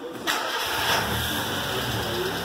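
A Fiat Palio Fire car engine cranks and catches almost at once, then settles into a steady, close idle for the rest of the moment.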